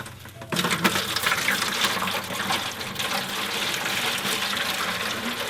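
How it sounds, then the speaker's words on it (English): Water pours steadily into a drip pan inside a Char-Griller Akorn kamado grill set up for a brisket, a continuous close splashing gush starting abruptly and running without pause. "now we're going to add some water into this pan"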